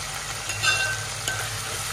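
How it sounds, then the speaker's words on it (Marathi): Tomatoes and onion sautéing on high heat in a pan for spicy Kolhapuri misal, a low steady sizzle with a faint clink or scrape of a utensil partway through. "टमाटरही आपल्याला याच्यात चांगले परतवून घ्यायचे"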